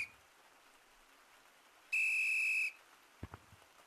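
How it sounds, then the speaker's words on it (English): A single shrill, steady whistle from a straw whistle in the video game Gorilla Tag blows for under a second, loud against a quiet background, followed by a couple of soft clicks. "It's just a straw. It's a whistle."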